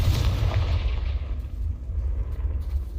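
Confringo explosive spell cast in the video game Hogwarts Legacy, a loud, dense booming blast with heavy low rumble sustained for about three seconds, with no talk over it.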